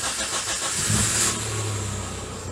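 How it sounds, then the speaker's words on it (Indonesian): Engine of a 2000 Daihatsu Taruna CSR starting, with a short starter crank and catch followed by a steady mid-pitched idle, close and alone. "cobi kita nyalakan mesinnya nggih"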